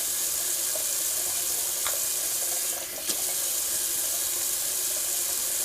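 Tap water running steadily into a sink to rinse alum off a freshly shaved face, a constant close hiss with a few faint splashes and no talking.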